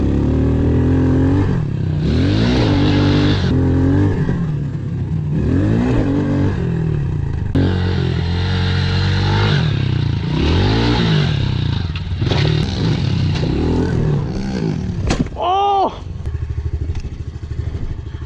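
Pit bike engines rev and rise and fall in pitch as the small motorcycles ride over dirt jumps, loud and close throughout, with a clatter and a sharp high rev near the end and voices shouting over it.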